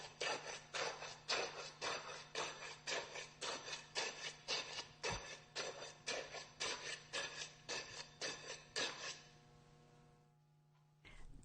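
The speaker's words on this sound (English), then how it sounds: "Tap the exterior of the measure 10 to 15 times with the mallet." Mallet tapping the outside of a concrete unit weight measure about fifteen times in an even rhythm, each knock close and distinct, then falling quiet to a low hum.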